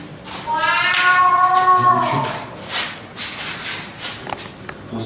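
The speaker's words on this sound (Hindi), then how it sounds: "इस लोकेशन पे मैं जब भी आता हूँ ये बिल्ली की साउंड जरूर आती है।" A cat gives a loud, drawn-out meow close by inside a room, followed by scuffing footsteps and light shuffling noises, with no one speaking.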